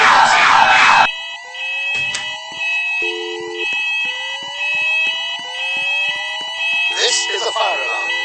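A shopping mall fire alarm sounds with a loud sustained electronic tone and repeating pulsed sweeps, overlapped by a recorded evacuation announcement voice in a large reverberant indoor space.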